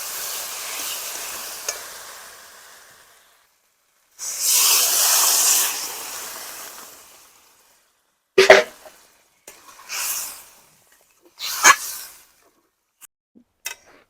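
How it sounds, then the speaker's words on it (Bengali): Water goes into a pan of frying potatoes and spices for a Bengali boal fish curry, setting off a loud burst of sizzling hiss that fades, followed by short stirring scrapes and smaller sizzles. "এবার আমি দিয়ে দেবো জল।"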